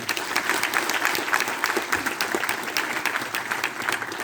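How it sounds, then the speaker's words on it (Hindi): An audience in an auditorium applauds at a Sahaj Yoga realization program in Dehradun, with steady, moderately loud, dense clapping from many people filling the whole stretch. "एक छोटी सी ताली तो बजनी चाहिए इसके लिए।"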